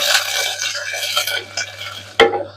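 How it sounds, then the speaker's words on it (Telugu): Curry leaves and onions frying in a pan over a high flame for a broad bean curry, a close, bright sizzle with a sharp clink of a utensil against the pan near the end, no talk. "హైలో పెట్టి చక్కగా వేయించుకున్నా."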